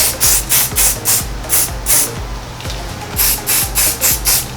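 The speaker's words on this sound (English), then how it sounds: "I'm also gonna take my hairspray and just spray around my perimeter" Hairspray hisses from an aerosol can in quick repeated bursts around a hairline, a run of short sprays, a pause, then another run, loud and close.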